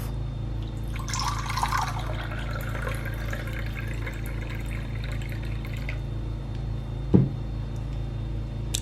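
Infused water poured into a drinking glass, a bright splashing trickle that starts near and runs for several seconds before tapering, with a brief knock near the end.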